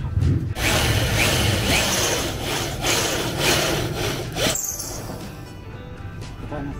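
Steady grinding of wood being bored or cut, continuous and close, with faint voices in the background before it stops near the end.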